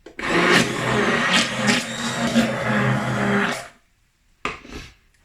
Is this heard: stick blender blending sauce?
yes